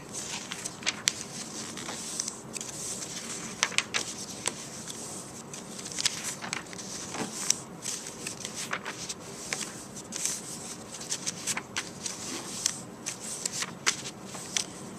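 Green paper being folded back and forth accordion-style for a paper cactus craft, giving steady crisp rustling and crinkling with frequent sharp creases, close and alone with no talk.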